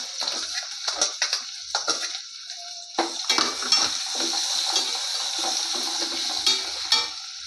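Halved shallots tossed into hot oil in a pan crackle and fry while a utensil clinks and scrapes against the metal, with irregular stirring knocks over a steady sizzle.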